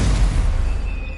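A Stupefy spell fires in Hogwarts Legacy on PS5, a loud, brief boomy blast with a rumbling low-end burst that fades out over about a second, with no voices.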